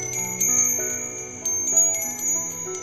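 A copper wind chime with three bowls and a metal ball rings softly in sustained, overlapping tones, with a few gentle new strikes adding to the shimmering resonance close by and no talking.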